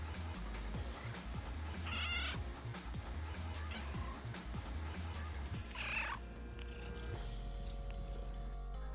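A domestic cat meows twice, softly and a few seconds apart, over a steady low hum and faint background clatter.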